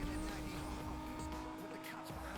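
Engine of an orange Y2K Honda NSX in Need for Speed Most Wanted, a steady sustained drone with a faint tonal whine, running continuously, while a voice talks over the top throughout.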